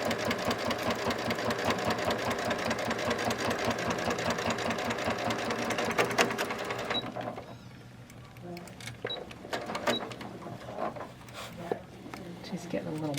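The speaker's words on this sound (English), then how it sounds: "we're going to sew right up to this edge" A sewing machine stitches through a thick bag strap with a fast, rhythmic mechanical chatter for several seconds, then stops and leaves quieter handling noises and a speaking voice.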